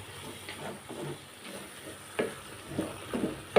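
A cheese and onion filling cooks in a pan, giving a low, steady sizzle with a few soft stirring scrapes and small bumps near the end, close by and fairly quiet.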